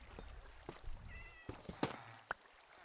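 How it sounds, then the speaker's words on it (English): In Minecraft, a cat gives a few soft meows spread across a couple of seconds, quiet and close, with light clicks and taps nearby. "I hear kitty."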